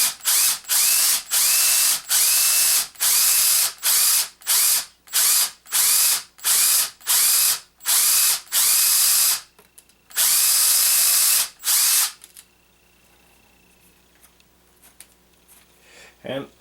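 A handheld drill bores into a plastic piece in a dozen or so short, loud whirring bursts separated by brief pauses, ending in a longer run before quieting to a faint background hum.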